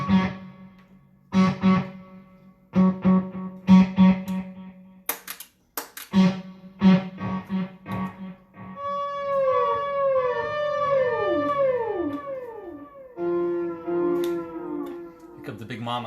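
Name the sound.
whale sound imitated by voice with effects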